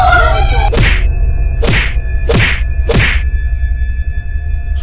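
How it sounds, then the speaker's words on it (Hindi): Staged sound effect of a father beating his son: four sharp whacks land at roughly even intervals, each a loud slap-like thwack with a swishing tail, over a low steady background hum. "सोनू के पापा सोनू को बहुत मारते हैं।"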